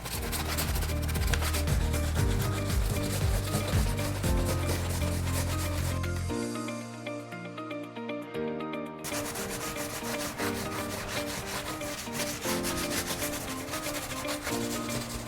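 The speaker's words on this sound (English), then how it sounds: "Now I'm gonna take this dry microfiber towel and wipe the haze off." A dry microfiber towel wipes grout haze off a tile backsplash, producing a continuous close rubbing scrub with steady back-and-forth strokes and one brief lighter stretch midway.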